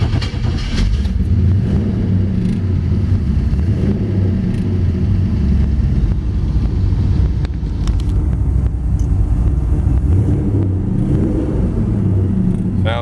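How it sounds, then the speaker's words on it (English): A restomodded 1956 Chevy Bel Air two-door hardtop engine runs steadily, a loud, continuous low rumble with a few faint clicks on top. "Take it fire it up, Dakota Digital Dash."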